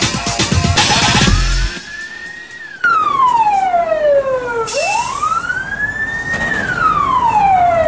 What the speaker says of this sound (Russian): И вновь пожарные машины в центре города.